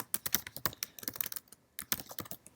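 Typing on a computer keyboard while formatting a script, a quick, irregular run of crisp close key clicks with a brief pause before the tapping resumes.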